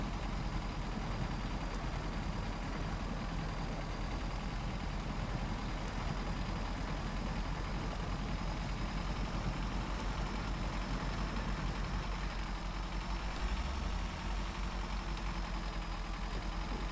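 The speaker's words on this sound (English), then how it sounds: "I could hear the engine running down while I had it in high just that moment there." A steady, continuous truck engine drone from the video game SnowRunner, with a low rumble and constant hiss, unchanging in level throughout, with no talking.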